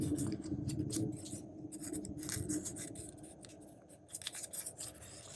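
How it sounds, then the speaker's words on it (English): A sheet of paper is folded by hand to make a mini envelope, giving soft, close crinkles and brisk creasing scrapes that come in quick bursts and then ease off toward a quieter end. "Maybe in this one, I have a piece of paper. And maybe we can fold our paper."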